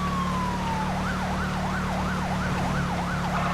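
A police siren on a Holden VF highway patrol car in the video game GTA V wails in a steady up-and-down pattern over a constant engine drone, loud and continuous throughout.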